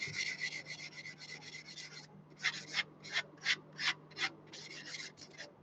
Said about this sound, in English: Carry on sanding this away.